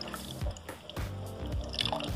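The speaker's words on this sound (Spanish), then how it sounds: "Pero primero vamos a agregar el jugo" Orange juice is poured into a bread dough mixture for pan de muerto, giving faint, uneven trickling and dripping liquid sounds in short irregular splashes.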